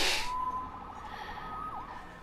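A police siren in Marvel's Spider-Man video game wails faintly in the distance, a thin rising and falling tone after a brief burst of noise at the start.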